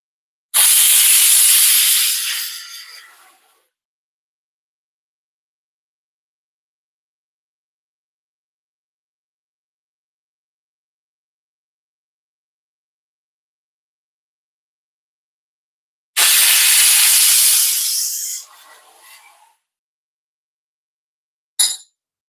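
Pressure cooker whistles releasing steam, two long loud hissing blasts several seconds each separated by a long silence, with a third short burst at the end.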